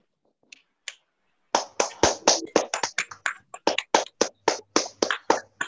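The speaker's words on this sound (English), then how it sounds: "Let us invite Dr. Anga to learn some yoga postures with a huge round of applause." A few scattered claps open, then sharp, quick, uneven hand claps rattle on continuously as a school assembly on International Yoga Day welcomes a yoga teacher.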